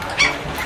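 A pet dog gives one short, high yip or whimper nearby, heard over steady background noise in a home kitchen.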